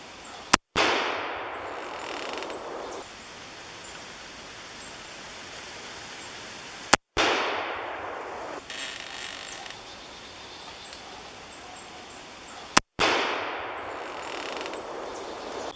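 Three rifle shots from a .35 Remington loaded with pistol bullets at reduced velocity, each a sharp loud crack followed by a long decaying echo, spaced about six seconds apart, with no talking.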